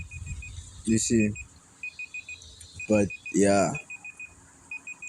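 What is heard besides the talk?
alarm going off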